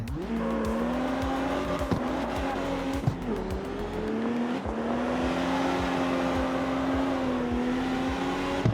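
A race car in the CarX Street video game on the Sunset Speedway track revs continuously, engine pitch rising and falling through gear changes, with tire squeal through turns, loud and steady with no talk.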